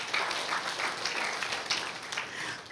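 A congregation at a GBI Sport Centre church service claps in praise, a light scattered patter of hands in a large room that stays fairly soft, ending in a sudden loud burst.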